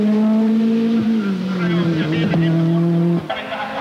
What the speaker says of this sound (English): Timo Salonen at the rally's only tarmac stage, the traditional 2 kilometer blast through the streets of Jyväskylä